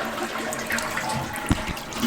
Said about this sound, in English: I'm going to flush the stool because I want to get the water pressure below where I'm taking apart